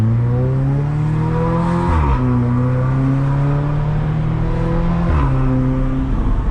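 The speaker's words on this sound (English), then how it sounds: "This thing is downshifting and shifting with crazy burbles right now." An Audi S3 with a burble-tuned exhaust drones loudly from inside the car while accelerating, and its engine pitch drops and climbs again at two gear shifts.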